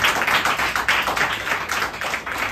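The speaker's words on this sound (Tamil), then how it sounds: "ஒரு பெரிய கைத்தட்டு." A church congregation at a communion service applauds loudly and continuously. The dense patter of many hands sounds close and fills the whole stretch with no speech.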